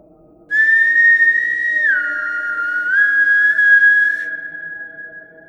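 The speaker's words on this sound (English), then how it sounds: "There came whistling, like some feverish, piercing alarm" A single loud, piercing whistle holds a high pitch for several seconds, dipping slightly and then steadying before fading out.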